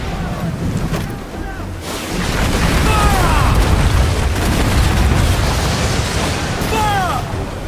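Ship cannons boom across the water in a naval battle in Assassin's Creed Black Flag, loud rolling blasts over sea and creaking ship noise, with a voice shouting orders amid the din.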